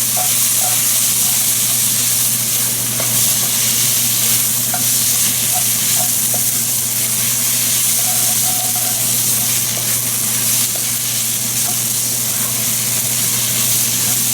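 Tomato paste fries in a hot pot for a goat stew while being stirred, giving a steady, close sizzle with a constant hiss and faint scraping throughout.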